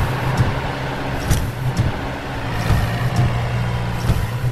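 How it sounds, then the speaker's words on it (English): Concrete mixer truck with a revolving drum, a steady rumbling diesel idle close by with faint clanks and knocks over it, no talk. "It is a concrete mixer truck."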